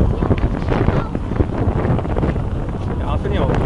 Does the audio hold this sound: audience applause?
no